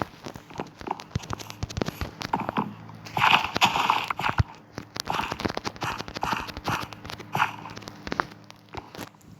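A character eats in a survival farming video game, with repeated crunchy bites and chewing close up in an uneven rhythm amid light clicks and footsteps.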